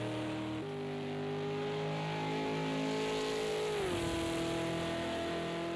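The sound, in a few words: V8 Supercar engine in racing video game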